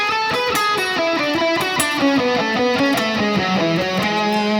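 Electric guitar runs quickly through a three-note-per-string scale pattern, rapid even notes climbing and descending in a continuous stream, lightly distorted and close, with no talking.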